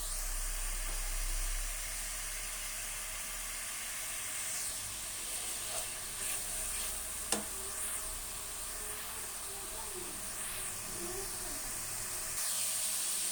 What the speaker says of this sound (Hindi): लहसुन अदरक को भी 5 मिनट सही से भूनेंगे